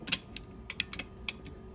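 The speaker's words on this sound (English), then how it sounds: "So what I'll do then is I'll add the socket wrench to it" A socket wrench ratchets as it turns a wheel and axle, giving a handful of close, dry metallic clicks in short uneven bursts, quiet and alone with no talking.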